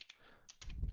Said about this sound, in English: here I'm going to type in foobar